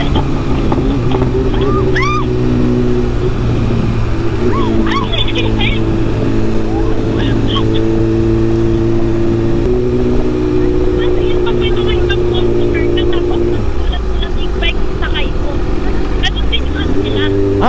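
A BMW big bike motorcycle engine runs continuously nearby while carrying a passenger, a loud steady drone that shifts pitch occasionally, with people talking over it throughout.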